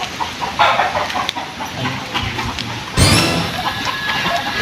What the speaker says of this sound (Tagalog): Ay manok ay, ari yung manok ay.